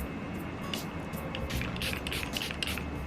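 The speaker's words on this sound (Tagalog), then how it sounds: "I'll spray first." Facial setting spray mists from a pump bottle in a few quick, close hissing bursts over faint room background.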